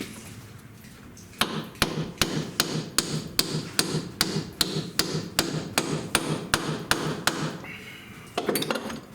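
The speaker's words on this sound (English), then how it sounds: "So I'm going to use the hammer." Steady hammer blows ring out on metal, about seventeen sharp evenly spaced strikes close by, hammering lead to seal an oil leak, followed by a brief scuffle of handling noise.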